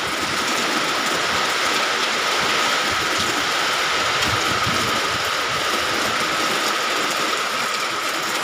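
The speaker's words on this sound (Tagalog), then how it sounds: "Ang lakas na naman ng ulan" Heavy rain pours down steadily as a dense, continuous hiss under a dark sky, close and loud throughout with no pauses.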